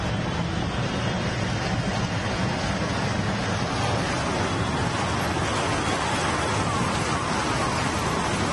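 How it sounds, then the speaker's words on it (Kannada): Heavy rain pours steadily over the city of Bengaluru, a loud, dense, continuous wash of falling water with no pauses and no voices. "ಬೆಂಗಳೂರು ನಗರದ ಹಲವು ಭಾಗಗಳಲ್ಲಿ ಮಳೆ ಆರ್ಭಟ ಹೆಚ್ಚಾಗಿದ್ದು"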